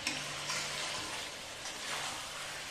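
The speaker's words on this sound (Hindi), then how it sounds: "हल्दी डालने के बाद आप इस 2 मिनट तक इसे भूनेंगे" Chicken curry masala with turmeric frying in a pan gives a steady, close, bright sizzle that holds evenly throughout with no voices.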